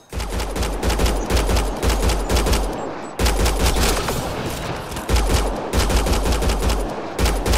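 Rapid automatic gunfire in Mass Effect Andromeda during a hostile standoff, with dense, loud bursts of shots that break off briefly and then resume in steady volleys.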